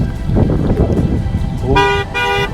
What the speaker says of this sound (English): There is a car coming actually